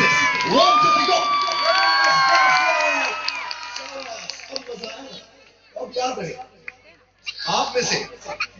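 Audience of young women at an applause contest in a five-star venue bursting into loud, close cheering, shrieks and whoops, then dying back into scattered shouts before a second surge of shouting near the end.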